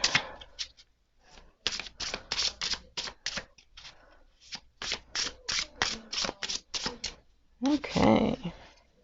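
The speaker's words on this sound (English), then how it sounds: "So let's shuffle the cards. I love this deck because it shuffles fantastically." A deck of tarot cards being shuffled by hand, a quick run of crisp riffling snaps in uneven bursts, close and fairly quiet, with a short burst of talk at the end.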